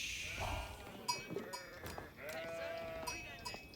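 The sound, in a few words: sheep bleating in Age of Empires IV video game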